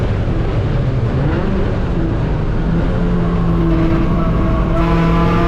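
A race car at Mid Ohio roars loudly close up from the cockpit as the driver lifts off the throttle and brakes, the engine note shifting and dropping while wind and mechanical rumble fill the background.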